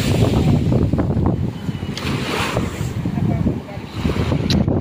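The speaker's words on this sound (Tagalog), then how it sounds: "Lalaki ng alon." Big ocean waves crash and surge at sea under heavy wind buffeting on the microphone, a loud continuous roar with rolling swells, while people talk nearby.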